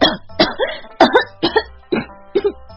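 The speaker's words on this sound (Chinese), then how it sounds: "这次是真的被呛到了，被茶水呛得猛烈咳嗽起来" Harsh, violent coughing from someone choking on tea, about six sharp bursts in quick succession, each a short rasping spasm, close and loud with no talk.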